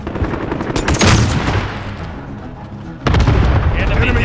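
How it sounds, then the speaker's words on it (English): Cluster strike explosions and rapid gunfire in Call of Duty: Modern Warfare team deathmatch, a loud burst of blasts and shots, a lull, then a second heavy barrage, with voices underneath. "Ally cluster strike inbound."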